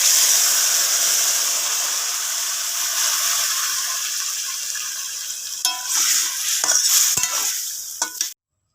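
Neem leaves frying in hot oil for a Bengali neem shukto give a loud, steady sizzle, and stirring clatters over it near the end, with no voices.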